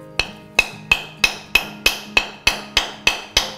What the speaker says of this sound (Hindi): इस लाइन के ऊपर कुछ मारना है, चाहे तो सिलवट्टा मारिए, चाहे तो बड़ी नाइफ को पीछे से ठोक के मारिए